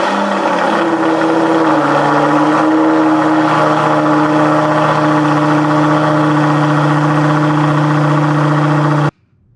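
A Lamborghini Gallardo Spyder V10 engine with modified exhaust cranks and fires up, then settles into a loud, throaty idle with a steady deep drone before cutting off abruptly at the end.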